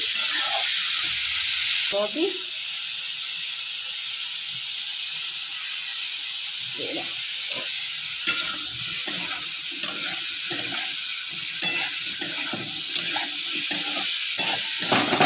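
Onions fry in hot oil in a home kitchen pan, a constant loud hiss of sizzling with repeated clacks of a spoon stirring through the second half, heard up close.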